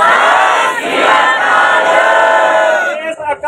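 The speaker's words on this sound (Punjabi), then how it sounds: "ਇਹਦੇ ਲਈ ਆਪਾਂ ਜਕਾਰਾ ਕਿ ਜਾਈਏ ਬੋਲੇ ਸੋ ਨਿਹਾਲ" A large crowd of students at a university protest roars the Sikh jakara response 'Sat Sri Akal' in unison, a loud, sustained collective shout that fades into scattered voices at the end.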